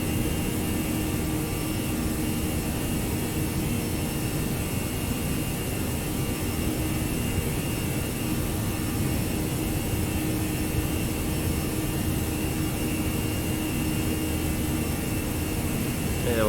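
Jet engines of a Toliss A319 airliner climbing toward cruise altitude in the X-Plane 11 flight simulator, a steady, loud, unbroken broadband roar with a constant hum that holds through the whole stretch, no voices over it.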